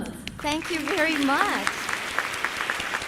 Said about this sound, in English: Please join me with giving them a big round of applause.